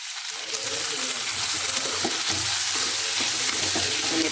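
Potatoes and onions cooking in a pan with turmeric and salt make a continuous close sizzle, with stirring and small scraping sounds layered over a low background hum.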